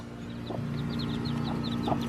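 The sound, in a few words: chickens clucking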